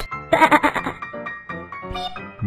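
Sheep bleating from a children's farm game, a loud close wavering bleat followed by a couple of shorter, quieter calls, with no talk over it.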